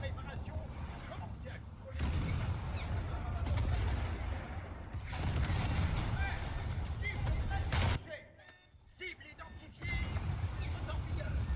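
Naval cannon fire rumbles in heavy, sustained bursts during a War Thunder naval battle, with a brief lull before the barrage resumes; someone talks over the gunfire.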